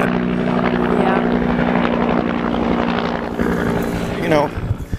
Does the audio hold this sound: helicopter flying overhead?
yes